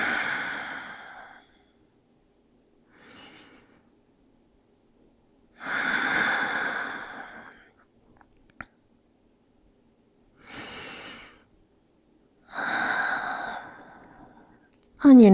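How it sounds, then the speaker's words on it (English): Slow, deep breaths during a yoga stretch for the shoulders, lower back and hips: five long exhaling sighs spaced a few seconds apart, close and clear, with silent pauses between them. "Big, full, deep breaths."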